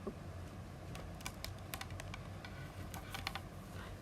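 Quiet, quick clicking of keys on a computer keyboard, an irregular patter of light taps over a soft background hiss, with no speech.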